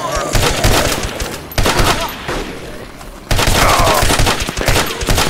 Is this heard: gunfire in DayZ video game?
yes